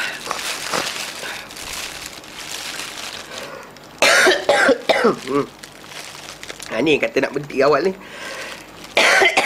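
Several harsh coughs and throat clearing break out in loud bursts, interrupting someone speaking nearby during a religious lecture.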